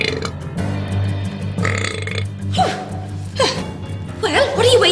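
A cartoon professor character gives a long, drawn-out, gurgling burp that rumbles on for several seconds, loud and close, with voice-like squeals and growls rising through it.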